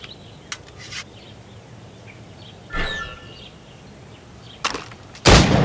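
Gunshots fired at targets in Assassin's Creed Rogue: a few sharp, isolated bangs spaced several seconds apart over a quiet game ambience, the last one loudest and closest.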